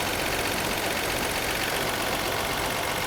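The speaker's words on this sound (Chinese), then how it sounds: "我们来看看它的怠速有多稳定" A Mercedes-Benz W126 280SEL engine idles steadily and evenly at 950 rpm, a constant close rumbling hum with no change in pitch or speed, despite low compression in one cylinder.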